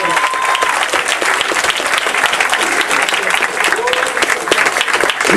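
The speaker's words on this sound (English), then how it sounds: "on vous applaudit bien fort" Loud, steady audience applause fills a rap battle event hall, with dense continuous clapping and crowd noise throughout.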